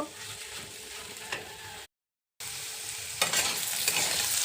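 Potatoes frying and being stirred in a pan for an okra curry, a steady close sizzle with scraping stir strokes, briefly cut off midway then resuming louder.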